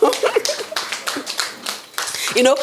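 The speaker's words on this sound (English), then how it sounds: "Can we clap for Sterling One?" Scattered audience clapping at a press conference, a few uneven bursts of hands close by, mixed with voices talking over and between the claps.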